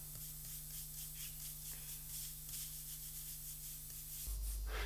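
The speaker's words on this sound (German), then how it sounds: "Damit der Farbauftrag kräftig und flächig wird, verwende ich ausnahmsweise den Pastellpinsel." A pastel brush rubs brown pastel onto paper in continuous soft, rhythmic scratchy strokes, close and fairly quiet, without talking, and ends in a brief low bump.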